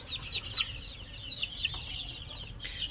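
Zampen native chickens in a coop give soft, quick clucks and short high squawks, a close, fairly quiet flurry of overlapping calls over low background noise.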